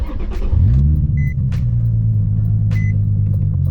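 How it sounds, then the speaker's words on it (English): A Nissan 350Z HR with a check engine fault idles nearby, a steady low rumble holding even throughout, with a brief rise in revs near the start and faint short electronic beeps over it. "I think the car has to be running, doesn't it?"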